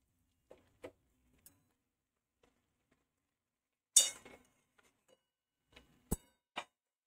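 A spoon clinks against a pan while vegetables are stirred together in an oil-free mixed vegetable dish, giving scattered, sparse taps and one brief louder scrape, close by with quiet gaps between.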